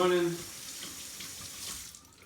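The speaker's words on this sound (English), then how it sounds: "running some water on the back of the ice tray here" Tap water runs steadily, splashing against the back of a hard plastic ice tray, after a brief tonal beep at the start.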